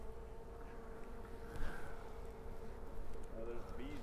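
Honey bees hum around a beekeeper at close range, a continuous low buzzing drone with individual bees swelling louder as they pass near, faint and steady throughout.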